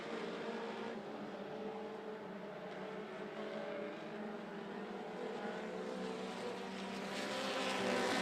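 Mini stock race cars circle the 411 Motor Speedway, a continuous layered engine roar at moderate distance that swells louder near the end as the pack comes closer.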